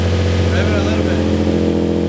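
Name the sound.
Infiniti G35 car engine revving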